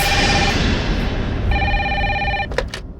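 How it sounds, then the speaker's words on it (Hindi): An official landline telephone in a police station rings with two bursts of electronic ring tone, loud and close over a dense background noise, with no talking. "कैसा फोन है, फिर भी बज रही है।"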